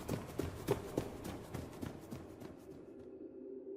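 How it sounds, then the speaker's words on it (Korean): Hurried footsteps run along a riverside hillside at night, a quick series of uneven thumps that fade away toward the end, moderately faint and with no voices. "문득 강가의 언덕 쪽에서 웬 급한 발소리가 들려왔다."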